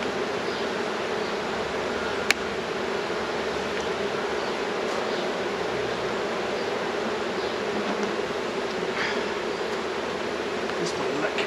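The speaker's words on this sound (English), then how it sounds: "Just bees everywhere." Honeybees swarm densely around an open hive with a virgin queen, producing a steady, close, unbroken buzz that holds at an even loudness throughout.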